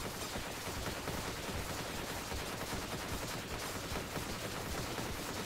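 Dense, continuous rapid gunfire from weapons in Vampire Survivors, a steady wall of overlapping shots with no breaks and no voices, fairly quiet overall.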